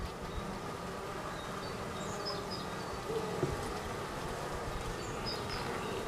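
Honey bees buzzing inside an opened hive in late winter, a steady, close, continuous hum with faint rustling and no talk over it.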